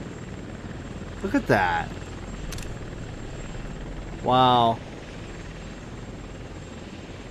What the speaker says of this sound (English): it's not like just a simple helicopter flying by